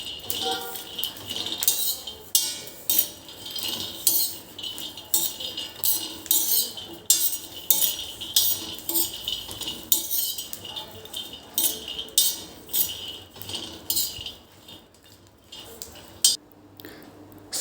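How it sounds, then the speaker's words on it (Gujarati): Garlic cloves and peanuts dry roasting in a pan over a slow flame, with repeated light clinks and scraping of a utensil against metal, steady and close, with no voices. "લસણની કળી 10 થી 12 નંગ અને સિંગદાણા, એને આપણે એકદમ ડ્રાય રોસ્ટ કરવાના છે"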